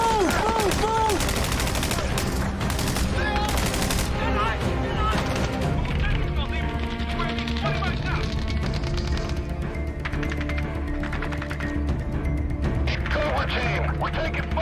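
Video game gunfire crackles in rapid, dense bursts of automatic weapons and single shots, loud and close, mixed with explosions and shouted voices over a continuous battle din.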